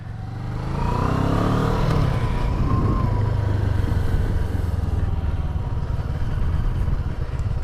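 A 2015 CFMOTO 650NK parallel-twin motorcycle pulls away, its grumbly engine rising in a rev before settling into a steady, loud riding drone close to the microphone.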